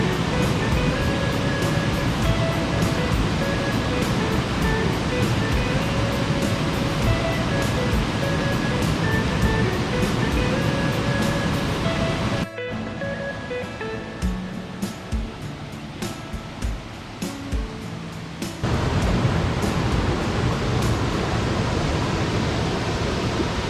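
The Seethammakund waterfall in Wayanad, swollen after rain, roars as a dense, unbroken rush of falling water close by, dipping briefly in loudness midway before returning at full strength.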